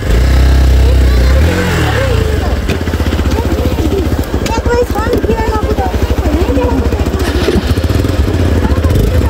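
A motorcycle engine running on a mountain ride in Dolpa, loud and close with a rapid, steady pulse. Voices talk over the engine.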